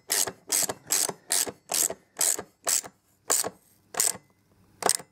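Bolts being nipped up with a ratchet on a BMW R1200RS motorcycle while fitting a machine-artmoto AvantGuard, heard as ten close, rapid bursts of ratchet clicking at a steady rhythm with short pauses between, alone without talk.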